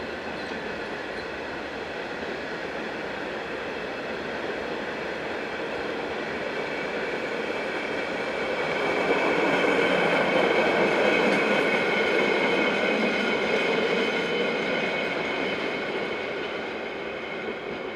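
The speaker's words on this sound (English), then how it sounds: "Here it heads a train of empty stock for Zurich." A Swiss RE44 electric locomotive in orange and grey livery hauls a train of empty stock toward Zurich, a steady rolling rumble of wheels on rails that swells in the middle and eases slightly toward the end, with no talking.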